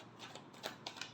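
Tarot cards being shuffled by hand, a few soft papery riffles and flicks landing in quick bursts, close and quiet with no voices.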